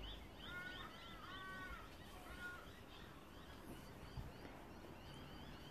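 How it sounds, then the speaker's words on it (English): Birds chirping and calling in late afternoon as they settle to roost, a cluster of bright repeated chirps in the first couple of seconds over steady outdoor background noise, then fainter scattered calls. "so that's why you can hear all that chirping in the background"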